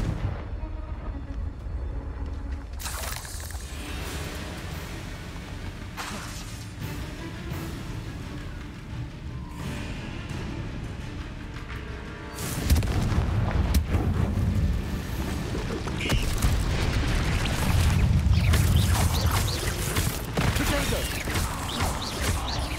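Confringo fire blasts from spellcasting combat in Hogwarts Legacy, booming bursts with a heavier, louder barrage in the second half over a continuous game soundscape, with voices mixed in.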